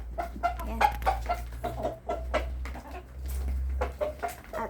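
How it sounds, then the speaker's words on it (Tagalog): Backyard chickens feeding on lettuce, sliced bread and rice grain give frequent short, close clucks and soft murmuring calls in an irregular, busy patter. "ayan yung mga manok ko. Kumakain sila ng lettuce at saka sliced bread"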